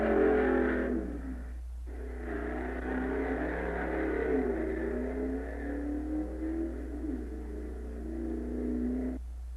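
A 1950s drag racing car at the 1956 NHRA National Championship Drags in Kansas City, engine roaring steadily as it accelerates and burns rubber, loud and continuous for several seconds with no talk.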